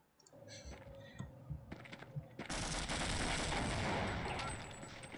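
Rapid bursts of gunfire from the video game Half-Life, starting with scattered clicks and shots, then breaking into a dense, loud sustained volley of automatic fire over the last few seconds.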